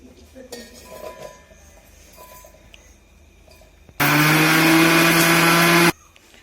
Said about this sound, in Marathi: तर आता लसूण आणि मिरची जिरे एकदा वाटून घेणार मिक्सर मधून.